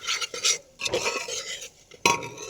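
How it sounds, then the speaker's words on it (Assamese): Turmeric-tinted rice stirred in a pot, a few close scraping strokes of a spoon against the pot with short pauses between them. "এতিয়া মই অকণমান লৰাই"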